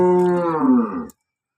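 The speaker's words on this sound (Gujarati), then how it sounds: "બીજી એક આરિયા ગાય છે" An Aria breed cow lets out a single loud, close moo lasting about a second, then stops abruptly into silence.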